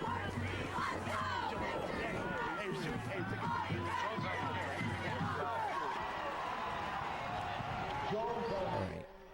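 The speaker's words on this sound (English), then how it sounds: "hear the crowd." Stadium crowd noise from a college football game, a dense roar of many voices and cheers near the student section, steady and loud throughout before cutting off at the end.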